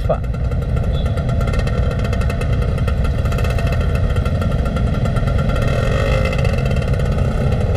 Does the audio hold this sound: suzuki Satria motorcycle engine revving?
yes